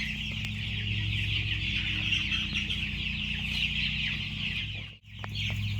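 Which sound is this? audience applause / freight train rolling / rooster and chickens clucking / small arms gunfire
rooster and chickens clucking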